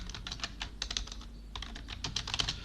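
Quick bursts of typing on a computer keyboard while entering Hindi text, a close, clattery run of key presses with a brief pause midway and no talking.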